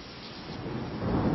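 Thunder from a raging hurricane in a cartoon storm scene: a steady, dense low rumble that swells louder toward the end, heard alone without speech.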